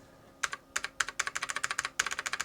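Keys clatter on a restored NeXT non-ADB keyboard, close and crisp, with quick bursts of clicky presses in irregular runs broken by short pauses.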